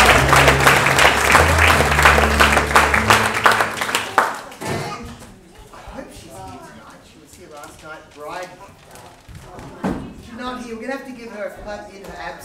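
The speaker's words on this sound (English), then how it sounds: "Give him another clap." Audience applause for a long-serving crew member at a live stage show, loud clapping for about four seconds before fading out, followed by a presenter speaking.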